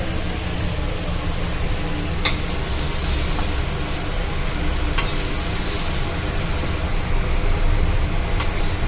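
A tomato paratha frying in oil on a tawa gives a steady, loud sizzle throughout, with a few faint clinks of utensils and no speech.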